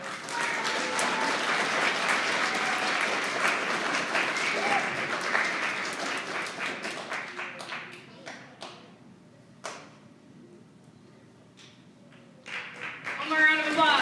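Applause rises from an audience at a school quarter-two awards ceremony for grades 3 to 6, a loud sustained clatter of clapping for the first several seconds that thins into scattered claps and fades before a brief swell near the end.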